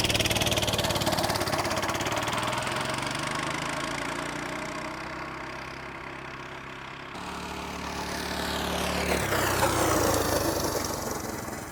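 A Coleman CT200U minibike engine with the stock 52-tooth rear sprocket runs hard in a speed test, a loud steady drone that swells, dips and rises again as the revs shift, with no talk.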